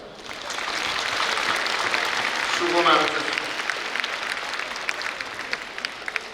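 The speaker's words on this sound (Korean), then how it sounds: "여러분 모두 자기 자신을 축하하기 위해서 박수 한번 치십시다." A large audience at a university graduation ceremony (Eulji University degree conferment) claps in a long, dense wave that swells and then slowly fades. Someone speaks briefly over it.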